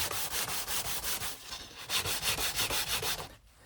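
Sandpaper rubbing back and forth over a flat wooden surface of a cigar box guitar, a steady run of rhythmic strokes, close and loud, with a brief pause near the end.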